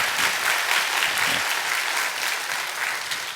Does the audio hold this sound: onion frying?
no